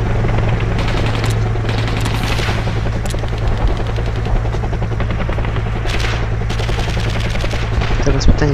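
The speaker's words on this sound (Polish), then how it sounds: "More choppers are flying in. Shoot them down." Combat in the video game Code of Honor: French Foreign Legion, where a steady loud helicopter rotor drone runs throughout under dense bursts of machine-gun fire, with a voice speaking faintly in the mix.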